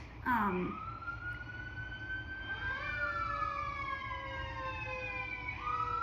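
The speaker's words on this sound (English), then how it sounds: "I'm gonna let those sirens kind of pass by for a moment" Emergency vehicle sirens wail past at a moderate distance, rising and falling sweeping tones overlapping one another, with a brief higher yelp at the start and a steady background hum.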